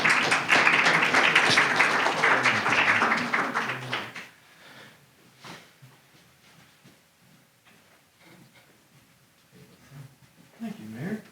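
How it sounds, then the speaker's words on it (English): An audience at a mayor's monthly press briefing applauds award recipients, a fairly loud burst of clapping for about four seconds that fades into quieter room noise with scattered voices. "Let's give them a round of applause"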